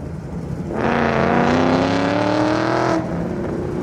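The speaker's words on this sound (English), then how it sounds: "Apologize for the Mustang noise pollution behind me." A Ford Mustang engine revs up nearby at an autocross event, its pitch climbing for about two seconds before it drops back to a lower rumble.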